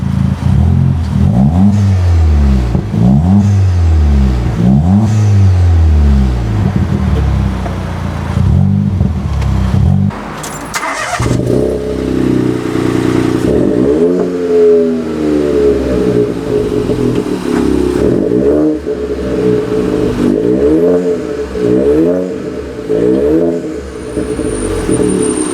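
A Ford Fiesta ST engine revs up repeatedly in rising and falling bursts, loud and close, with a brief pause midway before more revving resumes.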